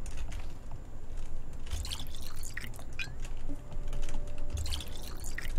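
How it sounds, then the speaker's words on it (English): Water dripping and trickling as bottles are filled in the video game Pathologic 2, light irregular splashes and drips over a steady background hum, moderately loud and without talk. "Fill our bottles and drink."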